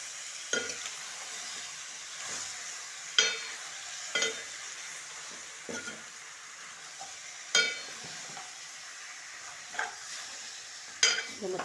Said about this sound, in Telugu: మొత్తం కలిపేసుకోవాలి ఆయిల్ అంతా పట్టేలాగా కలిపేసుకోవాలన్నమాట